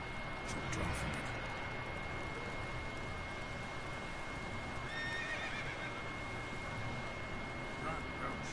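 Roach, a horse in The Witcher 3, gallops with steady clip-clop hoofbeats and occasional whinnies, at moderate level, under a person talking.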